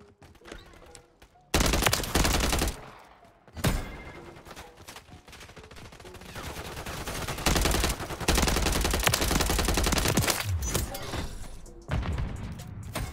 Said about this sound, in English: Here's some shooting going on.